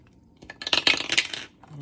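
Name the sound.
dice being rolled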